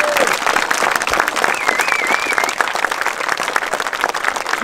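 Sustained audience applause for medieval combat performers at an outdoor medieval festival in Thil, dense and steady throughout with a faint whistle riding over the clapping.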